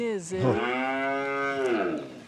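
A cow in Rwanda gives a single long, deep moo lasting about two seconds. It is close, clear and loud, with rich harmonic tone.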